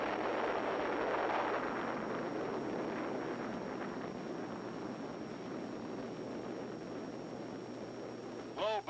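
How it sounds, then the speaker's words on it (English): A nuclear bomb test explodes over the Nevada desert, a deep, sustained rumbling roar with wind-like rush that slowly fades over several seconds, ending in a brief swooping tone. "Big bomb."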